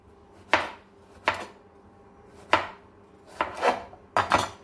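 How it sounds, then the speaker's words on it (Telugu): A knife chops tender snake gourd into thin pieces on a board, with sharp, close, irregular strikes, some single and some in quick pairs, and no talking. "ఈ సైజులోని మనం ముక్కల్లాగా మొత్తం ఈ పొట్లకాయల్ని కట్ చేసేసుకోవాలి"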